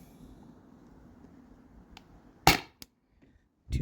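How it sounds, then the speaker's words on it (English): A CO2-powered air pistol fires a single sharp, loud crack up close. A couple of small mechanical clicks follow in an otherwise quiet setting. "6 more shots with maybe 20 seconds in between the reload."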